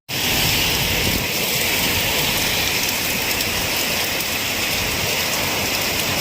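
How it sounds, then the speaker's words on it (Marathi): Heavy afternoon downpour in Chiplun under dark, thick clouds, a dense continuous roar of rain that starts abruptly and holds loud and steady throughout, with no voices. "हा मुसळधार पाऊस आला आहे"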